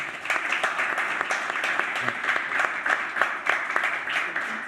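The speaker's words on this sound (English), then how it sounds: "So a round of applause for David, the man of the hour." Audience applause at an art talk, steady dense clapping filling the whole stretch with no voices over it.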